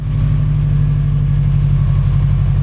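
A Subaru STI engine runs hard on a dyno, a loud, close, deep droning roar with a steady pulsing throb that holds throughout, with no voices.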